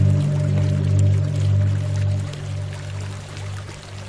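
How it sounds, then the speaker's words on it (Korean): Stream water flowing steadily as a leopard cat crosses it, a continuous close pouring rush over a strong low rumble that fades slightly toward the end. "영역 순찰을 위해 개울을 건너는 것도 마다하지 않습니다."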